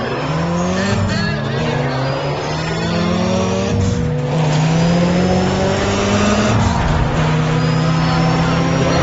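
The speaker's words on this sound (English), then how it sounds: "Will you listen to those engines?" Race car engines rev and roar in the racing video game Need for Speed: ProStreet, loud and continuous with rising and falling pitch sweeps, overlapping cars and brief tire squeals.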